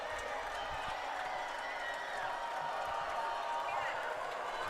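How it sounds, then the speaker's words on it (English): Crowd at a varsity high school football game, a steady wash of cheering and clapping filling the stands throughout, with a distant announcer-like voice blended underneath. "This crowd is amazing tonight."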